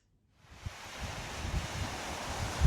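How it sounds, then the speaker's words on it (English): Wind buffets an outdoor microphone on a blowy, sunny day, rising from silence into a continuous rumbling roar with gusty low thumps, loud and close, with no talking. "Sorry about the noisy wind"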